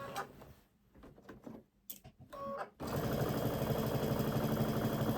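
Sewing machine piecing a Christmas quilt: a few short, faint stitching bursts, then a steady, close, continuous rapid whirring run of stitches.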